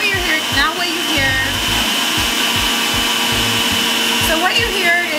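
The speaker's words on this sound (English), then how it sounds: "what you hear is the power of the Breville Juice Fountain Plus" A Breville Juice Fountain Plus juicer running, a loud, steady motor whine held close throughout, with rhythmic low knocks and brief rising tones over it.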